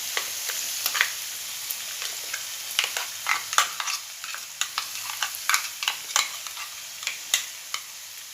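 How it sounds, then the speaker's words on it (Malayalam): Ground chili paste sizzles in coconut oil with onions, tomato and green chili, a steady frying hiss broken by frequent scraping stirs of a spoon against the pan. "ഇനി നമുക്കിതിലേക്ക് നമ്മുടെ മുളക് അരച്ചത് ഒഴിച്ചു കൊടുക്കാം"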